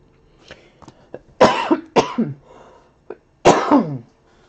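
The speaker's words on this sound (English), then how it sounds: "my friend Hacking Cough has joined the break." Harsh, hacking coughs in short bursts, two strong fits separated by a pause, close to the microphone with a few smaller throat sounds before.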